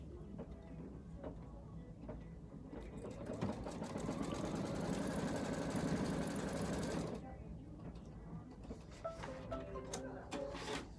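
A sewing machine stitches leaf fabric pieces for a Kimberbell bench pillow. A continuous whirring run lasts several seconds and then stops, over a quiet room with faint handling sounds.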